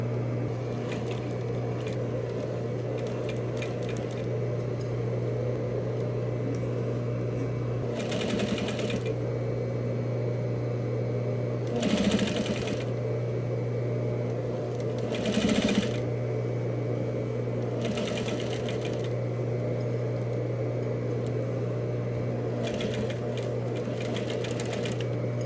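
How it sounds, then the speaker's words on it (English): A sewing machine runs steadily while topstitching three sides of a welt pocket opening on a couture garment with French seams, with a constant motor hum, several louder bursts and faint handling noises, close up. "we're going to top stitch 3 sides of this opening"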